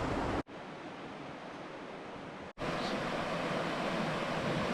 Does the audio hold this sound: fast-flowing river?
yes